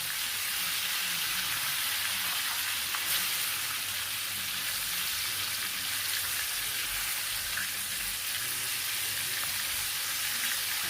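Chicken pieces double-dipped in cornstarch frying in hot oil: a steady, dense sizzle that fills the whole stretch at an even level, with a faint tick now and then.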